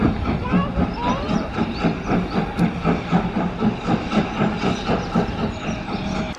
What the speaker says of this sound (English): I think we're about to see the train come through again.